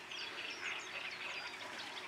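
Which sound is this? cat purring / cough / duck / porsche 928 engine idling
duck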